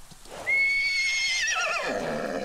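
A horse in the survival game Citadel: Forged with Fire rears up and lets out a loud, clear whinny of about two seconds, sharp and high at first, then wavering and falling away, with faint hoof clatter underneath.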